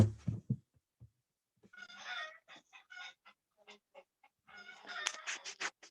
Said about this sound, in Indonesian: Ini ayam ini ribut.